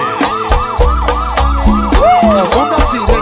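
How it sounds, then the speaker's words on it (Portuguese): A police siren effect wails in a repeating rising-falling pattern over a pounding beat in a Brazilian pop song, loud and dominant. "Calma, bebê, chegou a polícia, presta atenção. Faz de conta que a sirene é a zoada do seu paredão."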